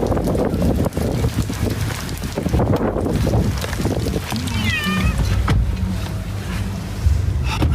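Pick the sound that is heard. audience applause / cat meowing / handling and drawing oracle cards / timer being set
cat meowing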